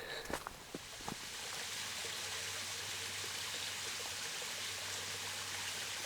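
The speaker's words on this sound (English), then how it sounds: "Oh, a creek's flowing." A creek flows through a Vancouver Island forest, a steady, close rush of water heard alone after a few brief footstep-like knocks at the start.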